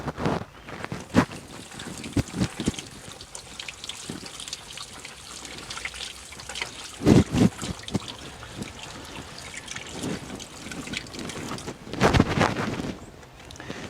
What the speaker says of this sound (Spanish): La vamos a enjuagar aquí en esta llave